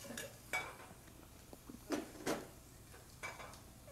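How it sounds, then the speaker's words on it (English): Metal omelet pans rattled and knocked on a stovetop burner, a few sharp clanks and clinks in an irregular rhythm, close and fairly quiet with no talk. "it doesn't matter how many times you rattle them right on the burner."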